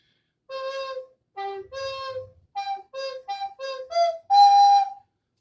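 Alto recorder played by breathing ha into each note rather than tonguing, giving a string of soft-edged, separate breathy tones of uneven length climbing to a longer high note, alone.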